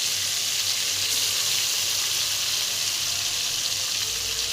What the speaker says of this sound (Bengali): আমি একটু বেশি তেল দিচ্ছি একটু মুচমুচে করে ভাজবো